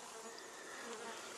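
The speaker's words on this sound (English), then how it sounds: "a mass of bees. Absolutely huge" A dense, steady buzzing of many bees in a top bar hive, continuous and close, with no voices over it.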